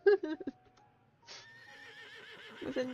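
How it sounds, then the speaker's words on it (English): A horse in the Love and Deepspace video game neighs loudly in a long, wavering whinny after a few short snorting bursts, close and clear, ending with another sharp breathy snort. "Shadowbind tosses his head and neighs loudly"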